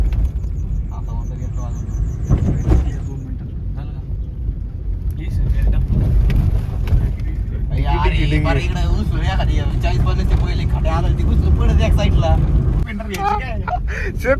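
Engine and road rumble heard from inside a new car as it drives along, a steady low drone throughout with people talking over it.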